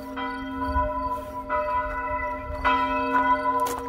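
Church bells ringing in Italy, several rich sustained strokes with long humming overtones that overlap and decay, heard clearly with no talking.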